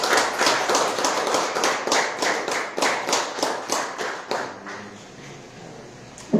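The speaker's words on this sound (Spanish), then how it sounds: "Denle un aplauso a Cristo, hermano." Church congregation clapping together in a steady, rhythmic beat of about two claps per second, then stopping abruptly, leaving a quiet room.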